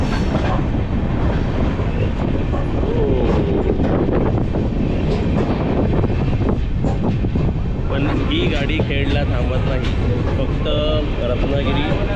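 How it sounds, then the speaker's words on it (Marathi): A passenger train pulls into Khed railway station in the Konkan region, with a loud continuous rail rumble, clickety-clack of wheels and wind noise close by, while voices come through faintly in the background. "खेड रेल्वे स्टेशन आलेलं आहे"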